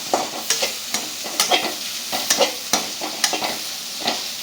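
A spoon stirs plain noodles with ground black pepper in a pan, giving repeated light scraping and clinking strokes over a soft sizzle. The strokes come at an irregular, fairly quick rhythm and sound close by.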